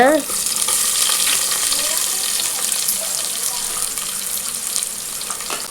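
Onions being sautéed with whole spices such as cinnamon, cardamom, clove, fennel and cumin for a mushroom biryani: a constant bright sizzle close by, with occasional stirring scrapes.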